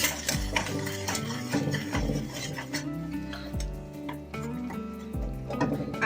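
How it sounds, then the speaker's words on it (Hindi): A spoon pressing and breaking whole jaggery in a pan makes close metallic scrapes and clinks in an uneven repeating rhythm, with dull knocks as chunks give way and no one speaking. "इसको इसी से चम्मच से मैं तोड़ रही हूँ, इस तरह से दबाती रहूँगी तो ये टूट जाएगा"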